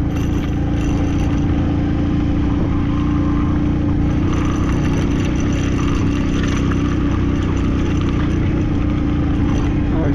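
A Hero Passion Pro motorcycle engine strains steadily on a steep high-altitude climb on a ride to Ladakh, a loud, continuous labouring drone with constant wind rush throughout and no pause.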